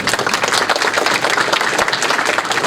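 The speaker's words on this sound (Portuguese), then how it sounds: "eu peço aqui palmas para essa grande figura" Seminar audience applauding in a hall, loud dense clapping from many people that stays steady and close throughout, with no speech on top.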